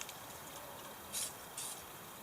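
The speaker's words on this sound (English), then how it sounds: "I'm going to spray it off" WD-40 oil sprayed from an aerosol can onto a knife at a woodland bushcraft camp, two short close hissing bursts over quiet outdoor background.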